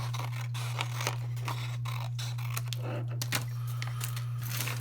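Close snips and scraping of scissors cutting paper for a Kente-style collage, a run of short irregular cuts over a steady low electrical hum.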